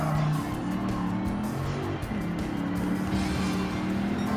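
Race car engines in Gran Turismo 7 drone loudly and continuously, the pitch climbing and dropping with gear changes and braking, close and steady throughout.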